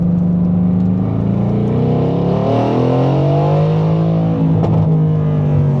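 Race car accelerating hard along a track straightaway toward a mile marker, engine note climbing and sustained loud and close throughout, no talk over it.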